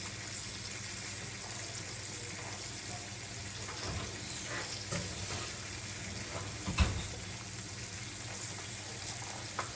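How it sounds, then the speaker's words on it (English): Chicken frying in oil in a pan for a chicken meunière, a steady broadband sizzle running throughout with a few brief clinks and bumps, no talking. "Make sure they're frying because I really want them fried."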